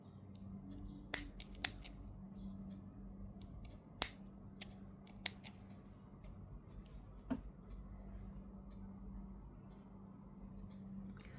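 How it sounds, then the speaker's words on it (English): Scissors snip off extra yarn on a crocheted rose doll, a few sharp isolated clicks spaced over several seconds, close and quiet against a faint steady hum. "And then we can cut the extra yarn that's here."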